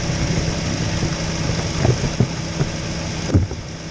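A Chevy HHR 2.4L engine idles steadily after running for 35 minutes, with a low even hum broken by a few soft knocks and thumps nearby.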